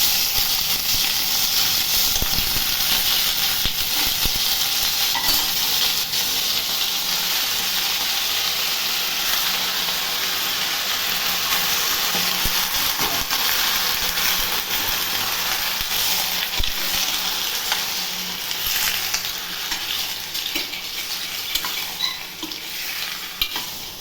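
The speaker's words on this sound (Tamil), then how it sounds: "கறி எல்லாத்தையும் போட்டாச்சு எல்லாத்தையும் போட்டு நல்லா வதக்கிக்கணும்" Chicken pieces sauté and sizzle in a pan for a chicken curry (kuzhambu), with steady frying hiss and occasional stirring scrapes that continue close and fairly loud throughout, with no talking.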